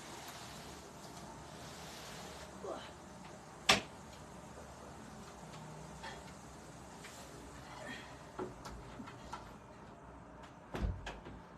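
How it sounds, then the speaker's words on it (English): A door is shut indoors with a single sharp thump, moderately loud against a quiet room with faint background rumble, followed by a few softer knocks and shuffles. "just wanted to shut the door"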